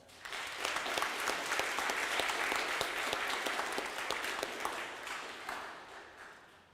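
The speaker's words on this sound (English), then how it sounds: "Please join me in giving General Wesley a round of applause." A middle school academic awards ceremony audience at Randolph-Macon Academy applauds General Wesley with a dense, steady round of clapping that holds for several seconds and then tapers off near the end.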